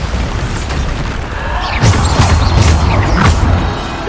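Bombarda blasting spell explosions in the Hogwarts Legacy video game, a few booming bursts rising over a steady rumbling game backdrop, loud and close with no talk.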